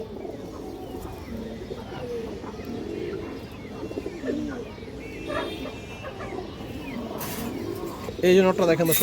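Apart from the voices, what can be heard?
red high-flyer pigeons cooing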